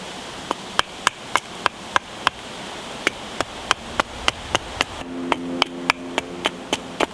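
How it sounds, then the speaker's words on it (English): Fatwood being batoned and split with a hammer, a steady series of sharp, close wooden knocks about every half second, with a ringing tone on the later strikes. "So we'll cut it down, then we'll half it, we'll batten it down to halves, and then we'll quarter it"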